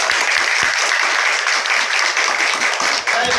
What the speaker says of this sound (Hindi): उनके लिए एक बार जोरदार ताली हो जाए